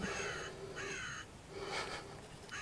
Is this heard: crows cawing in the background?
yes